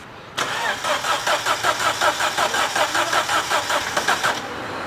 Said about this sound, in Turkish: Şimdi aracımıza marş yapıyoruz.